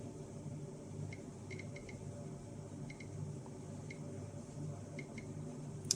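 Geiger counter dosimeter ticking in an irregular sparse pattern of short clicks, faint over a steady low hum, with no talking.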